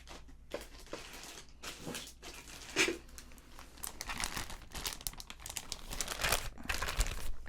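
A plastic bag holding Lego pieces crinkles and rustles close up, in uneven bursts of handling that come and go over several seconds, with no talking.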